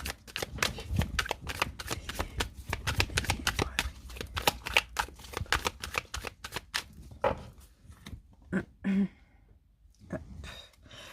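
A deck of tarot cards is cut and shuffled by hand, with a run of quick riffling card slaps followed by a few sparser flicks and taps, close and fairly quiet, with no talking.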